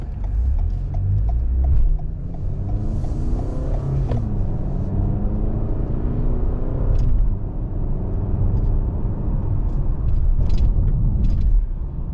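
A 2023 Toyota Camry LE with a four-cylinder gas engine and 8-speed automatic drives along, giving a steady low rumble of engine and road noise, with faint mechanical ticks and gear changes underneath.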